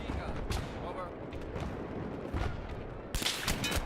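Bursts of automatic gunfire from a hostile machine gun in a first-person shooter, sharp cracks scattered over rumbling battle noise, ending in a louder, denser flurry of shots close by.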